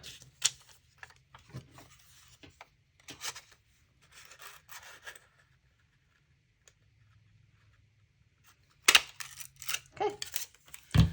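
Scissors trimming a large piece of cardstock for a paper punch in a stamping craft, giving short rustling snips and paper scrapes at intervals, then a louder burst of rubbing and crinkling near the end, with quiet gaps between.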